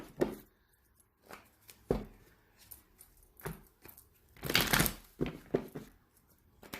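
A deck of cards is shuffled in quick, crisp riffling bursts with short pauses between, close and fairly quiet.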